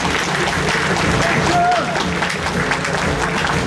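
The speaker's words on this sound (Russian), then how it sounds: "ваши громкие аплодисменты." Dense applause from a large audience at a Moscow veterans' gathering marking 30 years since the Soviet withdrawal from Afghanistan, a steady, loud roar of clapping throughout, with voices faintly underneath.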